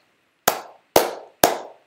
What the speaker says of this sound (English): No, we clap.